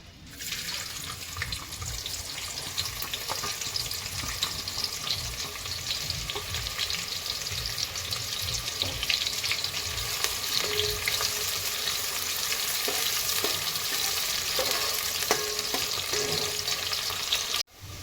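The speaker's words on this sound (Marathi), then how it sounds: "आता टाकायचा कांदा." Sliced onion fries in oil for chicken biryani, a dense, loud, continuous sizzle that swells and stays strong, with light stirring scrapes mixed in and no voices.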